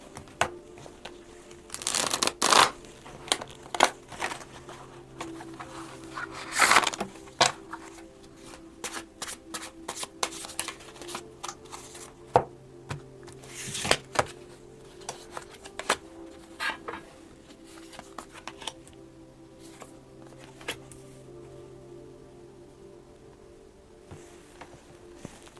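A tarot card deck being shuffled by hand, with repeated crisp riffles and card flutters in bursts, close and fairly quiet, tapering to softer handling toward the end.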